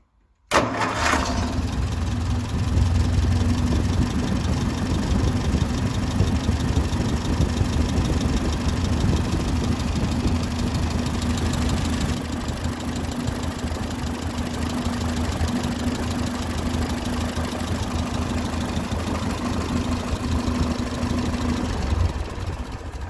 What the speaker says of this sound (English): So if I start the engine now,